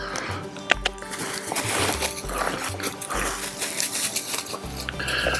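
A hunting dog works a scent line out in the field, with snuffling, panting and soft whimpers nearby, light patter of movement and faint background noise.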